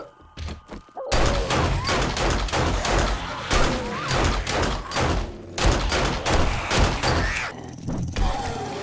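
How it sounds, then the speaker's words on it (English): A pipe bomb goes off in the 7 Days to Die video game (Alpha 21) during a base defense, with a dense burst of booms and crackling gunfire-like blasts rolling on for several seconds at close range. "Gonna throw a pipe bomb in there."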